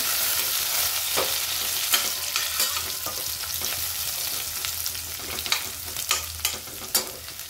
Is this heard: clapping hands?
no